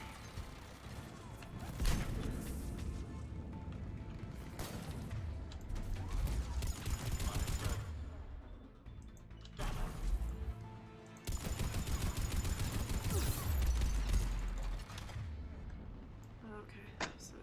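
An enemy turret firing in Mass Effect 3: long sustained stretches of rapid mechanical shooting broken by short pauses, quite faint, with a voice talking at times over it.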